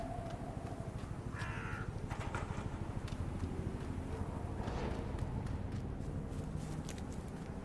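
A raven caws in the game Secret World Legends, a few harsh calls rising over a steady, busy game soundscape with shuffling footsteps.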